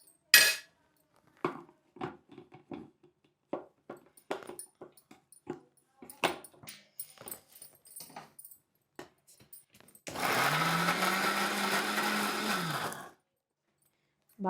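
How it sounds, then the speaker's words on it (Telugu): A kitchen mixer grinder blending coriander paste with green chillies, a loud whirring burst of about three seconds after a series of clicks and clatters of handling the jar. "బాగా మిక్సీ పట్టుకోవాలన్నమాట."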